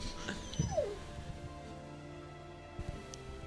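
A dog whimpers in the video game The Walking Dead Season 2: one thin, falling whine near the start over a low, steady ambient hum, then quiet background drone.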